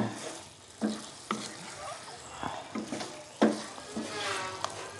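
Eggplant pieces frying and being stirred in a pan, a soft sizzle broken by several sharp scraping stirs of the utensil against the pan, heard up close.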